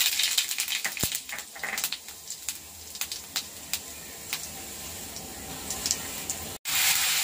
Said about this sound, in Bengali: গোটা জিরে দিয়ে দিচ্ছি।